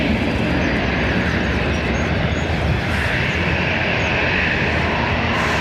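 Loud, steady broadband roar of an Aer Lingus airliner departing Dublin Airport for Amsterdam, heard close and constant throughout with no talking.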